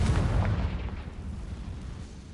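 A Confringo blasting spell explodes in the video game Hogwarts Legacy: a loud, booming burst at the start that rumbles and fades over about two seconds, with no talking.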